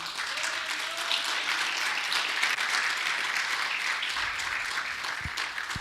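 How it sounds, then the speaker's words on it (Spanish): Steady, dense applause from a church congregation during a Spanish-language sermon, a thick wash of many hands clapping at a constant level through the whole stretch, with a couple of low thumps near the end. "Dele un aplauso al Señor."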